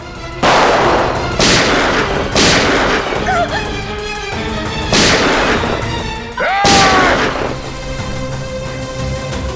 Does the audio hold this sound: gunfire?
yes